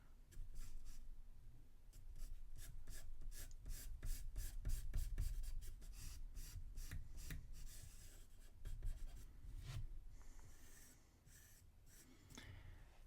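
A soft pencil draws rainforest tree trunks and vines on paper, with close, scratchy strokes in a steady rhythm of short rubs and longer drags. No one speaks.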